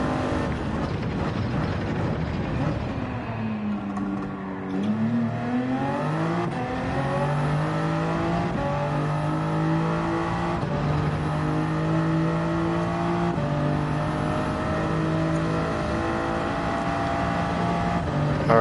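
A race car engine in a racing game revs hard in second gear, its whining tone climbing and dropping through rising sweeps as the car accelerates, loud and continuous with no talking.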